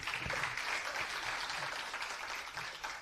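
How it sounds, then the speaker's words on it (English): A conference audience at a national meeting on lesser-known species gives a continuous round of applause, many hands blending into an even, moderately loud wash that holds throughout. "Can we have a round of applause, please?"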